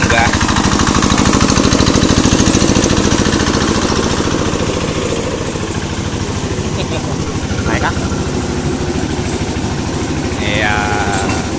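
A double-engine rail lorry runs on a railway track with a steady, loud, close engine drone that fills the whole stretch. It is used to lay out rail sleepers. Faint voices may sit under the noise.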